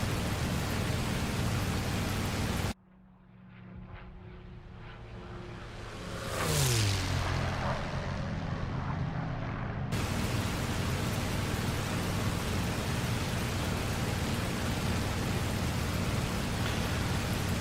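A P-51 Mustang piston engine pulled back to cruise power in a DCS World flight sim, a steady loud broadband drone that cuts out briefly, sweeps in pitch and then returns to a constant roar.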